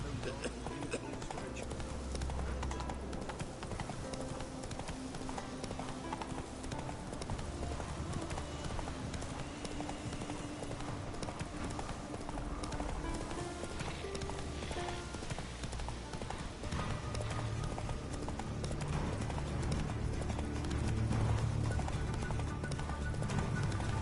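Roach, Geralt's horse in The Witcher 3, gallops with a steady rapid clip-clop of hooves under in-game music and ambience, loud and continuous throughout.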